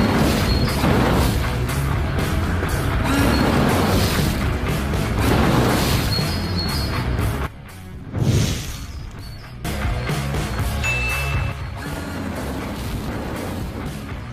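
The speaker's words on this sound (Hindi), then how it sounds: "इन जनाब ने विंडशील्ड वाइपर्स के नीचे 2 फायर ब्लोवर्स लगा दिए हैं।" Fire blowers mounted under a car's windshield wipers roar with a loud, continuous flame rush, briefly cutting out with a dull whump before surging back, the blast dominating throughout.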